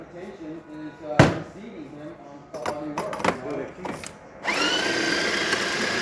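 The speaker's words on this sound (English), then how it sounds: "get through the coffee, then you're going to tamp it" A De'Longhi La Specialista burr grinder grinds coffee beans with a loud, steady whirring drone that starts partway through, after some clunks and handling knocks, with a voice talking early on.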